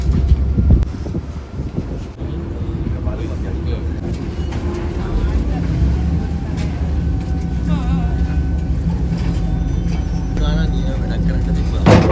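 A ride on a public transport boat in Stockholm: steady engine rumble and wind noise throughout, with people talking over it and faint higher tones in the background.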